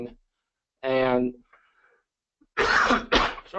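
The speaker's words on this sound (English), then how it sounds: "sorry about the cough" A person coughs during a lecture on climate change adaptation for Michigan's coastal wetlands. Brief speech comes first, then two loud, harsh, close coughs in quick succession near the end.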